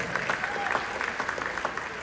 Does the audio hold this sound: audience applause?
yes